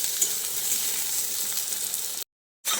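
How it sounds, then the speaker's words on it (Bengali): Eggplant pieces fry in hot oil in a wok, a steady close hissing sizzle that stops abruptly near the end, leaving a brief silence before it resumes. "এইভাবে আলাদা করে ভেজে বেগুনটাকে দিতে হবে।"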